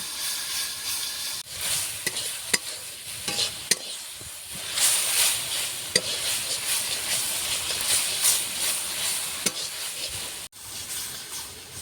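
Ginger paste and spices sautéing in a pan for a raw pumpkin and red-lentil dish, giving a steady, close hissing sizzle broken by occasional sharp clicks of a spatula, with no speech.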